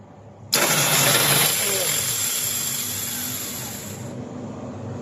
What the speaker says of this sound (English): So now I'm going to start the loader in front of you.